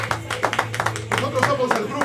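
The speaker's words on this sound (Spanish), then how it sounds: "de un fuerte aplauso" Scattered hand claps from a small crowd welcoming a Mexican rock band, irregular and moderately loud, with voices and a low hum running underneath.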